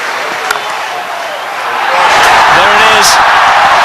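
Stadium crowd at a South Africa one-day international cricket match swells into a loud, sustained roar from about halfway through, greeting Herschel Gibbs reaching his century, with a faint announcer voice beneath.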